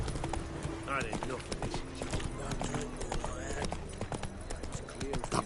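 Horse hooves clip-clop rhythmically in The Witcher 3 video game, with a brief whinny and someone talking over the steady hoofbeats.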